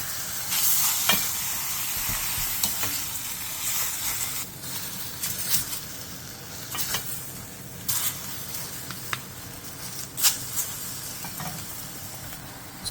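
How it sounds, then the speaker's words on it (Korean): Beef and soaked seaweed stir-fry over high heat with a continuous hissing sizzle, and a spatula scrapes and stirs at intervals close by. "불린 미역을 넣고 소고기의 겉면이 익을 때까지 센 불에서"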